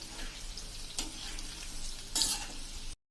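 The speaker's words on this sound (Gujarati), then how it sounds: "આપણે એને ગેસની ફ્લેમ એકદમ સ્લો કરી નાખશું, એટલે અંદર સુધી આપણા મુઠિયા ફ્રાય થઈ જાય" Muthiya dumplings frying in oil over a slow gas flame give a steady, close sizzle with occasional stirring scrapes and brief louder bursts, cutting off abruptly at the end.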